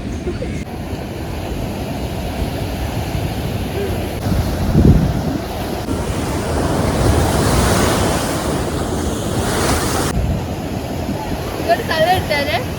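Ocean surf rolling onto a beach in Kerala with wind buffeting the microphone; waves swell and wash in, and voices are heard faintly in the background.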